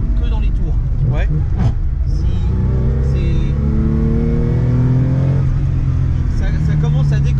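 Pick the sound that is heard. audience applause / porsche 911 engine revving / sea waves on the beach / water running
porsche 911 engine revving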